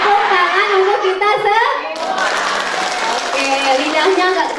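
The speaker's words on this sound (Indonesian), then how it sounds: "tepuk tangan untuk kita" A room of participants at a community health post training session breaks into applause, a dense wash of many clapping hands continuing throughout with voices mixed in.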